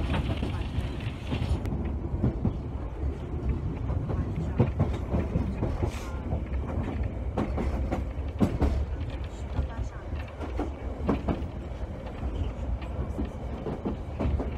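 A London Underground tube train rumbles along with a steady low roar and rhythmic rail clatter, with faint voices of passengers under the noise throughout.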